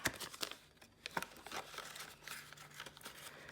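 Paper banknotes crinkle and rustle as cash is stuffed into a paper envelope, a run of close, quiet crumpling and brief tearing-like scrapes with small taps, heard alone.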